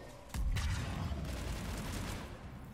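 Rockets firing and bursting in Mass Effect 3 combat: a heavy boom hits early, then dense crackling blasts and rumble carry on steadily and loudly to the end.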